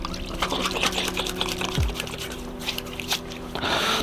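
Water splashes and runs continuously close by as a peel-off face mask is rinsed off the skin, with small pours and drips throughout.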